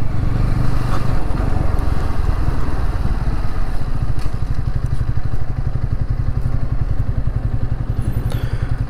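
A Suzuki Gixxer 150 motorcycle idles up close in Sendai, Japan, its single-cylinder engine thumping in a loud, even, rapid rhythm throughout with slight clatter.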